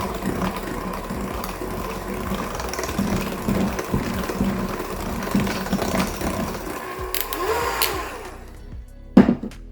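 An electric mixer whirs steadily through cake batter, its motor humming with a scraping rhythm before it slows and stops, followed by a short knock.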